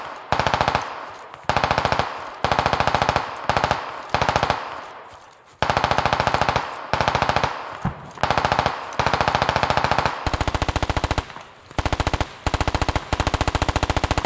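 Sustained bursts of machine gun fire in the military shooter game Squad, long rapid strings of shots broken by short pauses, loud and close.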